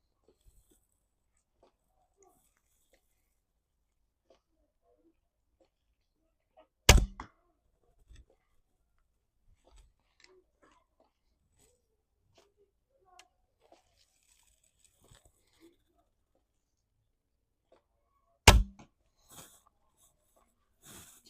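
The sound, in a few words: longbow string hitting the arm guard while shooting arrows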